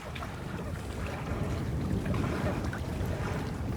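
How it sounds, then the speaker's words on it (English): Wind blows steadily over open water at the Rondevlei Nature Reserve in Cape Town, a soft continuous low rush with faint gusts and no talking. "But it's the wind."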